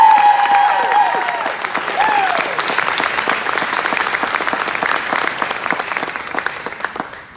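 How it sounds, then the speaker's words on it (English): An audience applauds teachers and faculty at a valedictorian graduation speech, a full burst of dense clapping that starts strong and tapers slowly over several seconds, with a brief voice at the start. "ask for a round of applause for all our teachers and faculty"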